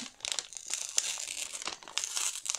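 Crinkling and tearing of a large kraft paper envelope being opened, close and fairly loud, with dense crackling bursts throughout and no talk.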